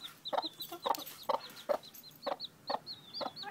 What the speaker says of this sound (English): Cornelia, you just hatched 3 chicks